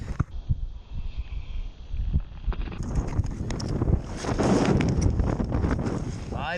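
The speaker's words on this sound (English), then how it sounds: "It is super windy out today," Strong wind blows on a frozen lake and roars across the microphone in rough, continuous gusts that grow louder, partly over talk.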